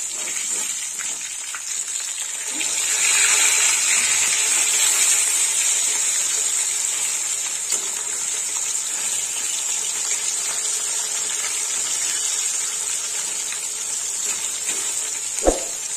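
Rohu fish fry in hot oil with a continuous close sizzle and hiss that swells briefly after being turned, with a few clinks, including one sharp knock near the end.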